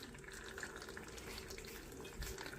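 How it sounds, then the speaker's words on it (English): A Mr. Coffee programmable pod brewer runs water through mid-brew with no filter or coffee loaded, a steady close hiss and gurgling trickle that never lets up. "And she's already brewing. You can already see water passing through."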